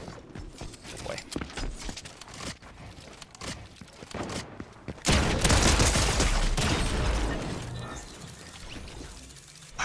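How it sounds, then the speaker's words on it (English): Pistol gunfire in a video game, with rapid sharp shots and clicking handling sounds, followed by a louder sustained burst of noisy firing that holds for a few seconds and then trails off. "How did I shoot so many of those pistol bullets through him?"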